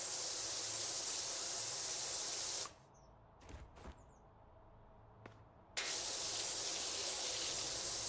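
A pressure washer in Power Wash Simulator 2 sprays with a loud, steady hiss. The hiss stops for about three seconds, leaving a few faint clicks, then starts again just as strongly.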